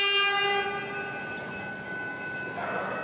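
A Melbourne Comeng train's RVB three-chime whistle sounds loudly, holding a chord for a few seconds before fading, with rail rumble underneath.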